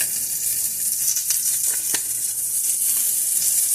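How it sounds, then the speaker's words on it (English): Minced onions sizzle steadily in a hot frying pan while chicken is being fried. The hiss is close and constant, with a few brief crackles and stirring clicks. "So I'm gonna throw in some minced onions."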